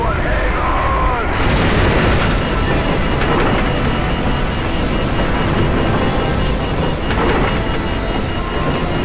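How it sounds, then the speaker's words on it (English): A huge explosion from the video game Call of Duty Modern Warfare, set during a nuclear threat in a city. A massive, sustained roaring blast fills the whole stretch, loud and continuous, with a deep rumble that rolls on without letting up. "What appears to be an explosion of epic proportions."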